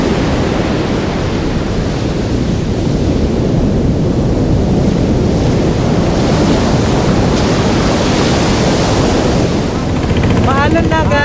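Strengthening wind and sea waves out at sea, a loud, continuous rushing roar with wind buffeting the microphone, surging and building steadily, with a faint voice near the end.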